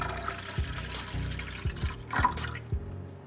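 Water poured one-handed into a vessel while making coffee, close splashing and gurgling with a few distinct knocks and plops scattered through the pour.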